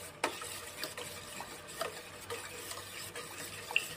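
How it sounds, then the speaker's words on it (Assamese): Neem leaf mixture is stirred into melting soap base in a pot, making soft scraping and light clinking taps at an irregular pace, quiet and close, with no talking. "ভালদৰে এনেদৰে লৰাই দি আছোঁ"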